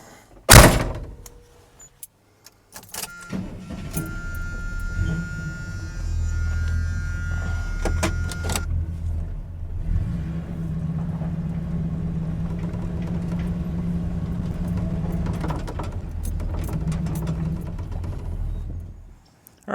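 A Chevrolet C-10 pickup fitted with McGaughy's drop shackles has its door shut with a loud close thunk, followed by the engine starting and a steady low rumble as the truck drives off.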